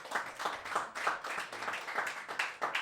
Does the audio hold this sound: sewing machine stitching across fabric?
no